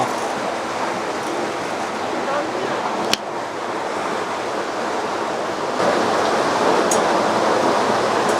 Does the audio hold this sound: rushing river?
yes